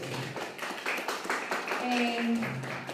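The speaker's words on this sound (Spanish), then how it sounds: "Les pido por favor un aplauso para todas nuestras panelistas" Audience applause for panelists at a university forum on gender violence, a short, moderately faint patter of clapping with some voices mixed in.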